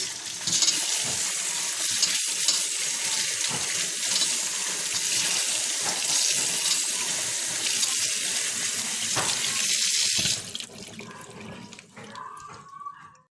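Parsley leaves are rinsed under a running kitchen tap, a steady close hiss of water that stops abruptly near the end, followed by quieter handling sounds.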